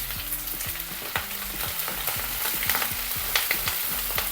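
Green chillies crackle in hot oil in a frying pan for a tangy lemon curry: a loud, dense, continuous sizzle full of crisp spits and pops, close and unbroken, without any voices.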